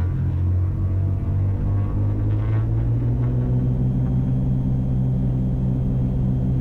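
Twin-engine Cessna at full throttle on its takeoff roll, a loud, steady engine drone and deep rumble that holds without a break from start to finish.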